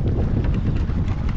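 Steady gusting wind buffets the microphone aboard a small boat anchoring in a bay, a loud low rumble with no clear voices.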